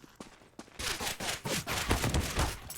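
Rapid burst of USP pistol gunfire and impacts in a CS:GO match on Dust2, a sharp clicky opening followed by a dense, loud cluster of shots and hits lasting about two seconds.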